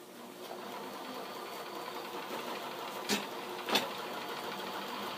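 Home sewing machine stitching a 5/8 inch seam along a t-shirt drawstring bag, a steady close mechanical hum running throughout with two brief louder bumps near the end.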